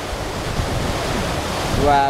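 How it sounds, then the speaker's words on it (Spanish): Paccha waterfall near Mariano Acosta, Pimampiro, Imbabura, Ecuador, roars as a steady, broad wash of falling water close by, with a person's brief exclamation near the end. "a mis espaldas se encuentra la cascada"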